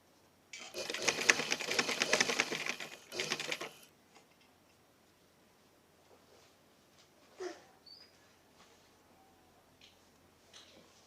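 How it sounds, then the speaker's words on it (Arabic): A sewing machine stitches a fabric cuff in one fast, steady burst of about three seconds, loud and close. Quiet clicks and handling sounds follow. "بنفس الطريقه كما خيطت البوني الاول راح نخيط البوني الثاني"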